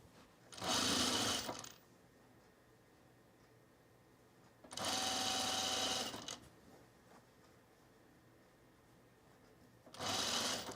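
A home sewing machine stitching summer pants runs in three separate bursts, each a steady mechanical whir lasting about one to one and a half seconds, with near-silence in between.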